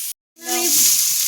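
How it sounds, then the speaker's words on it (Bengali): Cauliflower frying in a pan gives a strong, steady hiss and sizzle that starts just after a brief silence and holds on loudly. "যতক্ষণ আমি এই ফুলকপিটা ভাজা ভাজা করে নিচ্ছি"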